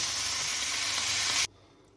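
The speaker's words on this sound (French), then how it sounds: "Nous allons commencer à faire revenir nos chanterelles dans une poêle avec de l'huile d'olive." Chanterelle mushrooms fry in olive oil in a pan with a loud, even hissing sizzle that stops abruptly partway through, leaving only a faint quiet background.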